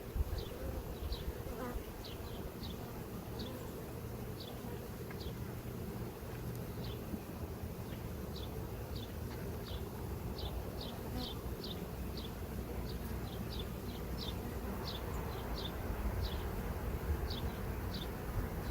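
Honey bees buzz steadily around a hive frame during a queen-rearing inspection, a dense continuous drone with scattered sharper buzzes from bees passing close, alone without talk.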